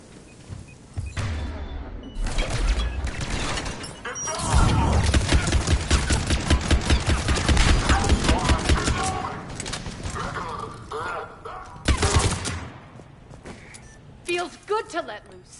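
Heavy sustained gunfire rattles through a firefight in the Mass Effect 3 mission to take back Omega, rapid bursts layered over voices shouting, with a loud flurry of shots near the end.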